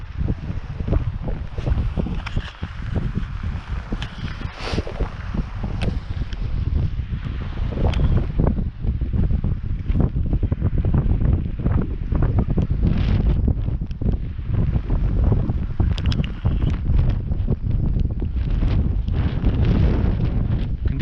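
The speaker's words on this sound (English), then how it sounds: "the wind is really strong" Strong wind blows on a beach during a fishing outing, buffeting the microphone with a loud, continuous rumbling roar and gusty rustles for the whole stretch, and no voices over it.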